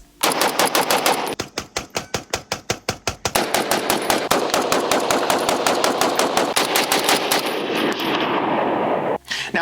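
Springfield Armory M1A SOCOM 16 rifle in .308 firing loud, close shots, first a steady string of evenly spaced rounds, then a faster, denser volley that continues almost without pause before stopping abruptly.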